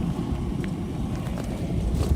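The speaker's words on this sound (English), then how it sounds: "It's really windy." Strong wind on McCall Glacier roars and buffets the microphone in a steady, heavy low rumble, with no voices.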